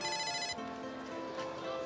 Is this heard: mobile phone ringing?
yes